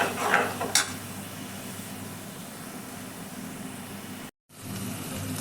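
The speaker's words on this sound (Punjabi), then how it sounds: "ਹੁਣ ਆਪਾਂ ਮਸਾਲੇ ਨੂੰ ਚੰਗੀ ਤਰ੍ਹਾਂ ਦੇ ਨਾਲ ਭੁੰਨ ਲਵਾਂਗੇ" Onion-tomato masala roasting in oil in a pan while being stirred, giving a steady, soft sizzle with a few sharper scraping clinks at the start and a brief dropout near the end.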